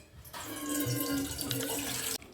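Tap water gushes steadily into a vessel for about two seconds as tapioca (cassava) is rinsed, then cuts off abruptly.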